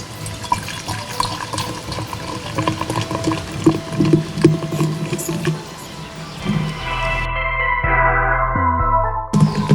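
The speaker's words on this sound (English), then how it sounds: "So I'm going to pour this into the jug." Fanta and Sprite pour into a jug, a close, continuous splashing stream that deepens toward the end as the jug fills, with a few clinks along the way.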